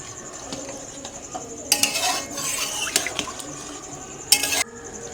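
Water poured into a pot of frying rice and chicken for pulao on a home stove, with splashing bursts and a louder gush near the end over steady sizzling and clinking of a pot.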